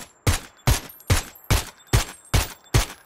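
Gunfire in the video game PUBG: eight evenly spaced, sharp shots fired in a steady rhythm over about three seconds, each with a short decaying tail, with nothing else heard.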